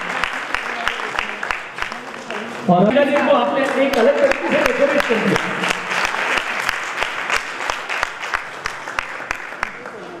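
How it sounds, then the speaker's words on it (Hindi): A hall audience claps loudly for a group of honoured schoolgirls at a hospital Daughters' Day event in Jaipur, a dense burst of applause swelling and then tapering while someone speaks over it on a microphone. "एक बार जोरदार तालियां बजा दें आप इनके लिए।"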